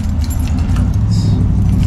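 Keys jingle and clink briefly over a steady low engine-like rumble, close by, at the door of a restaurant before going in.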